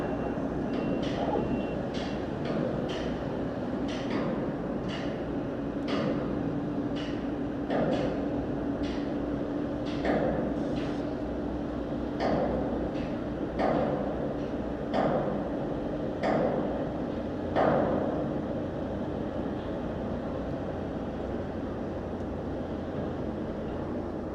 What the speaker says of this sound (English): They're still pounding on the truss this morning.